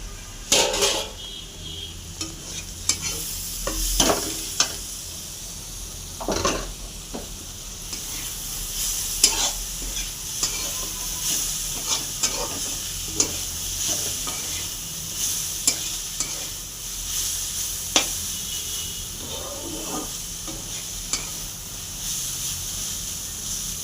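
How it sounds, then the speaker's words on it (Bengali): Food fries in a pan until well browned, making a continuous sizzle with scattered scrapes and clinks of a spatula stirring against the metal. "পুরো লাল লাল করে ভালো করে ভেজে নিতে হবে।"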